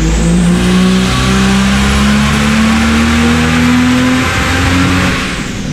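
Ford Barra turbo engine on a hub dyno, running about 25 psi of boost with a misfire, roars loud and close through one sustained run as its pitch climbs steadily, then tapers slightly at the end.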